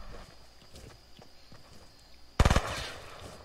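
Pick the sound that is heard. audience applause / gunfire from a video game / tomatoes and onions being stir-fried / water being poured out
gunfire from a video game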